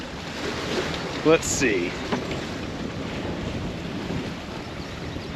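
Steady wind buffeting the microphone at a cold lakeside beach, a constant broadband rush throughout with a brief spoken remark near the start.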